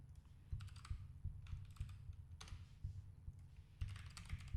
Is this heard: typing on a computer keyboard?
yes